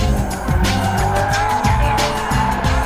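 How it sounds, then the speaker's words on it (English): An Alfa Romeo 4C with its turbo four and unmuffled racing exhaust snarls loudly and close by, revving in rapid rising and falling bursts with a rough, throaty bark and hints of tyre squeal. "The optional racing exhaust on this particular example doesn't even have a muffler."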